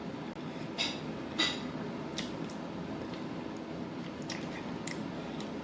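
Collard greens with oxtails are chewed close to the mic, a few soft wet squishes and crunches over a faint steady background hum, with no talking.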